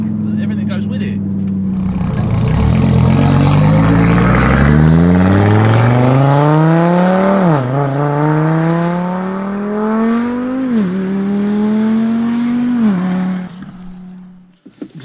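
A 1400bhp Audi TT RS engine revs hard as the car accelerates, its rising pitch climbing in steps through several gear changes, loud and close for most of the stretch before easing off near the end.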